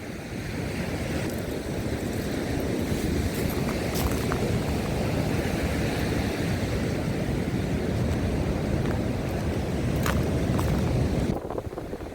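Sea waves and strong wind on the Odesa shore in December make a continuous loud roar of surf with wind buffeting the microphone, steady throughout with faint brief clicks.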